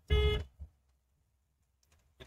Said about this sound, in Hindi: तो मोड़ों पर हॉर्न क्यों दे रहे हो,